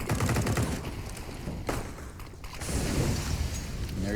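Rapid MAC-10 submachine gun bursts in a competitive CS:GO match on Dust2 crackle in quick clusters, broken by a brief pause before another run of sharp shots and mechanical clatter.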